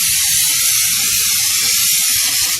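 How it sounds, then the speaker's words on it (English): Electronics cleaner sprays from a can onto the wheels of a 2005 BMW Z4 in one continuous, loud, close hiss, with a faint low rattle beneath and no talk. "So I'm just going to spray it with some cleaner."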